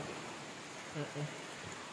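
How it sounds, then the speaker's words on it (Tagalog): Soft rain hisses steadily in the background, faint and continuous, with a brief murmur of a voice partway through. "Kasi ulan ng ulan dito"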